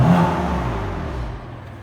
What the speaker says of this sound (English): I'll give you a little sound clip of the BMW M3's engine note